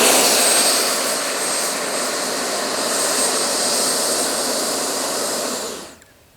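A Freewing F9F Panther model jet with a 70mm electric ducted fan comes in hot for a landing, its steady loud fan whine holding for about six seconds before cutting off abruptly.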